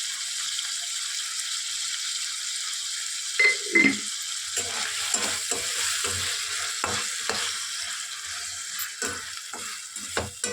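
Turkey berries with tomato are sautéed in a pan, a steady sizzle broken by repeated scraping stirs of a spatula, close and fairly loud.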